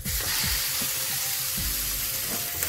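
Ground beef frying in a pan of butter with minced garlic, a loud, close, continuous sizzle with soft stirring thumps scattered through it.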